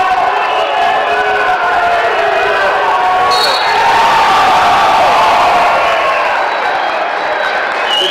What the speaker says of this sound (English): Cheer from the fans here in our third and fourth place match